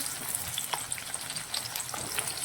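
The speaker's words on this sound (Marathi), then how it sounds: "आपल्याला व्यवस्थितच तळून घ्यायचे आहेत दोन ते चार मिनटं झालेले आहेत अशा प्रकारे मस्त खालीवरी करून घ्यायचं आहे आपल्याला" Sweet corn crisps deep-frying in hot oil, a dense continuous sizzle and crackle with brief bright pops and stirring scrapes, close and steady, no voices.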